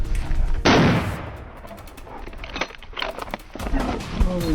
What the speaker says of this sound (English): a sharp gunshot rang out decisively